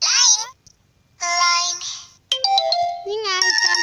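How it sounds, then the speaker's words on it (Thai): LINE messaging app notification tones on a phone, a series of bright chiming melodic alerts played back to back with short gaps, clear and close with no talking. "นี่ไงการแจ้งเตือน"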